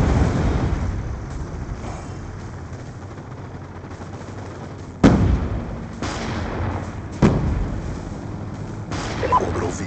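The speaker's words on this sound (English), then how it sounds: "Friendly Hellstorm missile inbound." Hellstorm missiles from a video game strike in a series of heavy booms, each a sudden loud impact trailing into rumbling, over a constant low roar of battlefield noise.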